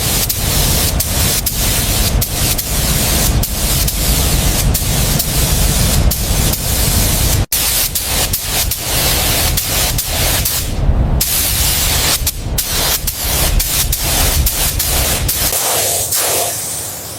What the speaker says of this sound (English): The cherry red base coat is going on so beautifully.